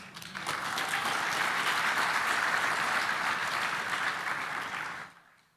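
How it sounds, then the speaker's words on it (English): Steady audience applause at a closing ceremony, a dense wash of many hands clapping that holds evenly and then fades out near the end, with no talk. "Another round of applause."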